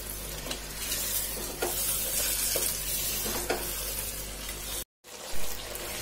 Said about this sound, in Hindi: टिक्के को हम अपने मसाले में 2 मिनट के लिए अच्छे से भून लेते हैं।